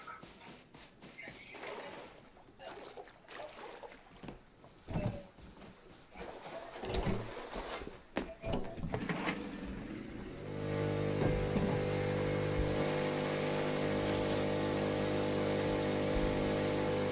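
A boat moves across the water in the survival game Rust. A mixed, uneven stretch of noise gives way after about ten seconds to a loud, steady engine drone that holds to the end.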